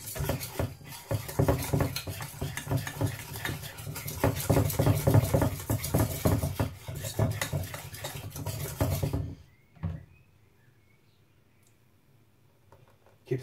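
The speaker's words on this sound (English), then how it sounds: "Let's give that a stir." A spoon stirs a frothy grapefruit ice cream mixture containing small grapefruit pieces, giving steady clinks and scrapes against the bowl for about nine seconds before it stops, with a brief knock later.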